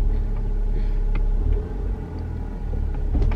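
Cadillac ATS 2.0T with a six-speed manual idles in a garage, a steady low rumble holding throughout with a slight dip midway, close and fairly loud, with no talking.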